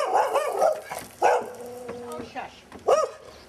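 A puppy barks and yips in short bursts, loud and close, mixed in with someone talking in a home setting.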